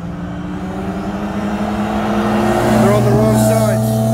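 A single-turbo manual Infiniti G37 and a hybrid IS38 turbo VW GTI on E85 idle and build revs side by side before a race, a steady loud engine drone with rising tones, people talking over it.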